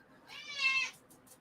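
A cat meows once, a drawn-out close call that rises and falls, followed by a few faint soft sounds, with no talking.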